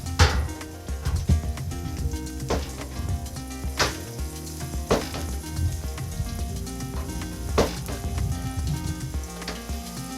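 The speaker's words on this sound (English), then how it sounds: "you kind of see the eggs fluffing up a little bit. Let that cook just a tiny bit more" Eggs cook in a hot breakfast pan with a loud, continuous close sizzle, and repeated sharp scrapes and knocks from stirring break through it, with no talk.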